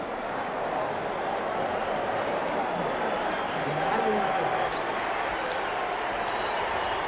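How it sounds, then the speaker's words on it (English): A boxing arena crowd roars before the first Muhammad Ali vs Joe Frazier fight: a dense, continuous wash of many voices and cheering that swells slightly midway, with a faint whistle-like tone cutting in near the end. "Just listen to the noise of this crowd."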